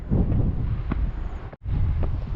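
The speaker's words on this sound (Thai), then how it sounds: "แต่ดีนะที่มันมีลม ดูใบหญ้า พิ้วอ่ะใบหญ้าพิ้วอ่ะ" Wind sweeping over grass at a reservoir viewpoint in Chon Buri, heard as loud, buffeting gusts with a brief dropout near the end.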